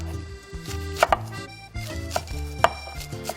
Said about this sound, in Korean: 배추니까 약간 옆으로 사선으로 이렇게 썰어주세요. 칼 조금만 누여서 썰어주시면 돼요.